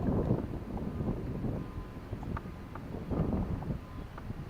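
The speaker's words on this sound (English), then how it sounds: "Wind done picked up a little bit" Wind gusts outdoors on a fishing boat out for crappie, producing a steady low rumbling buffet against the microphone that swells and eases over a few seconds.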